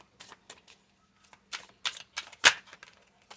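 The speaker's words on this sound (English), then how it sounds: "let's go ahead and shuffle these" Tarot cards being shuffled by hand in a series of quick riffling bursts, close and fairly quiet, with short pauses between and one sharper snap near the end.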